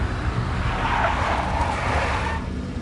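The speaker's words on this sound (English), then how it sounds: "A big black Mercedes." A big black Mercedes in the Max Payne video game skids with a steady tire screech and engine roar, loud and close, sustained for about three seconds with no talk.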